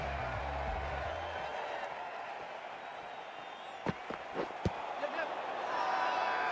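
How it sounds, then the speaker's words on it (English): A large crowd in the Cricket 24 video game roars in a steady, loud wash of noise, with a few sharp thuds and claps standing out midway. "This crowd is so loud and they're very expectant"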